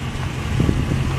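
A Dodge Ram truck's 5.7-liter Hemi V8 with dual exhaust idles close by, a steady low rumble with a faint pulsing throb, with no talk.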